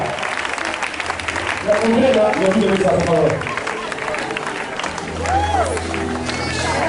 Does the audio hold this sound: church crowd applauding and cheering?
yes